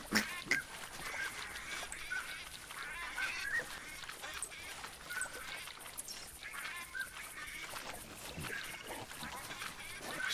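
Ducks quack and honk repeatedly and loudly in a hunting video game, calls overlapping throughout against a steady outdoor ambience.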